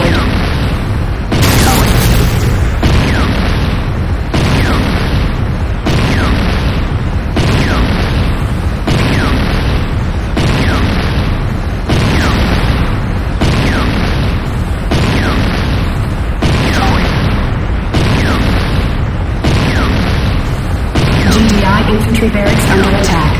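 A GDI infantry barracks being destroyed in Command & Conquer Renegade: loud, heavy booms repeat roughly every second over a continuous low rumble, with a voice present throughout.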